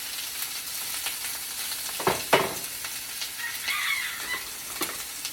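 Onions sizzling as they go into a pan of warmed olive oil for a vegan quiche filling, a steady frying hiss with a few louder crackles and spatters partway through, close and alone without talk.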